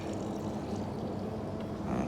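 Tap water running onto a cloth, a faint continuous low splashing trickle for two seconds.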